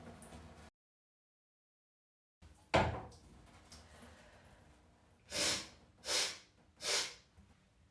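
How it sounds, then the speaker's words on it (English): Forceful nasal exhalations during neti pot sinus rinsing: one strong blow, then three loud rhythmic snorting bursts through the nose, close and clear, after a short silent gap. "And between sides, blow out forcefully through your nose."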